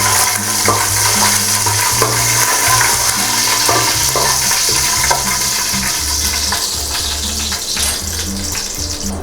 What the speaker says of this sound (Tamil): லாஸ்ட்டாக ஜீரகம். போட்டுட்டு ஒரே ஒரு வாட்டி மட்டும் மிக்ஸ் பண்ணிக்கோங்க.